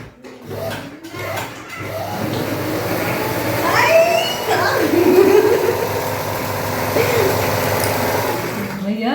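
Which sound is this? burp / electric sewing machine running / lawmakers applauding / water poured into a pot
electric sewing machine running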